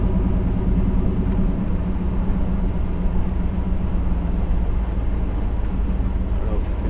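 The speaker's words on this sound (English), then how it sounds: "my stepdad's using the Chevy 3500 to plow a bit" A Chevy 3500 truck plowing snow gives a loud, constant low engine rumble that stays even for seven seconds, with no speech over it.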